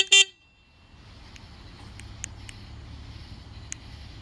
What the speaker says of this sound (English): You can also touch the horn by pressing this little button right here.